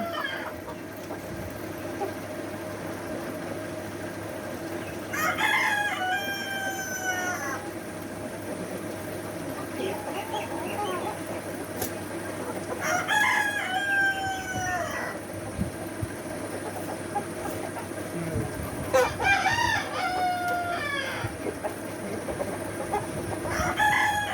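A rooster crows three times at even intervals against a steady background of clucking layer hens in a farmyard, with faint voices murmuring now and then.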